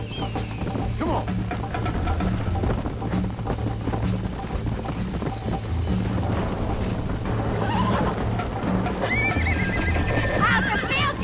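A horse in the Red Dead Redemption western video game gallops with steady clip-clop hoofbeats and lets out a whinny near the end, heard under continuous game ambience and music with a voice speaking.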